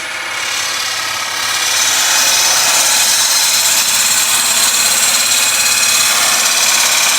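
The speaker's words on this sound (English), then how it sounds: "I'm going to start with a push cut and we'll see how it works." A wood lathe spins at about 1000 RPM while a turning tool makes a push cut, producing a loud, continuous scraping hiss over a steady motor hum that grows fuller after the first two seconds.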